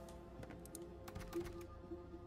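Very quiet typing on a computer keyboard, a few scattered key clicks in an irregular rhythm, close but faint, with no talk.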